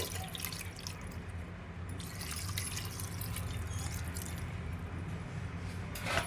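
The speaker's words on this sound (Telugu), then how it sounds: "కొంచెం వాటర్ పోసుకుంటున్నానండి." Water trickles into a simmering village-style potato curry gravy, a soft steady pour with light splashing and dripping, close and continuous, no voices.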